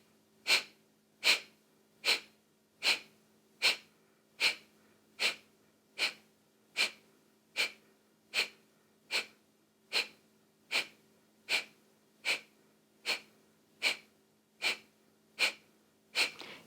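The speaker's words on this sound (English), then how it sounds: "that breath of fire one more time together here" Rapid, rhythmic breath-of-fire yoga breathing: about twenty sharp, forceful exhales pulsing evenly at roughly one per second, close and clear over a faint steady hum, with no talking.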